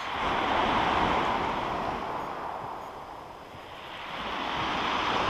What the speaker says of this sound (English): Fair amount of swell, waves coming in this morning